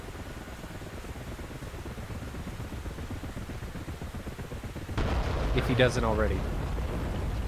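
A helicopter fires rockets in the DCS combat simulator. A steady rotor and engine rumble runs throughout, and a louder rushing burst breaks in near the end while someone talks over it.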